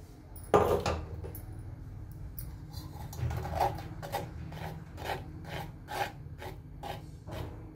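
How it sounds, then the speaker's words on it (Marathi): A spoon scrapes and rubs rhythmically against a metal sieve, straining raw mango pulp, a soft rasping stroke repeating about once a second, close and fairly quiet. "असं टाकून आपल्याला चमच्याने हलवून याला गाळून घ्यायचंय"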